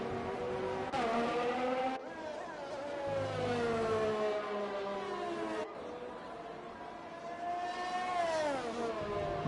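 Formula 4 racing cars in a sim racing league race at Italy roar through rising and falling engine revs with gear shifts, steady and loud throughout, no talk over it.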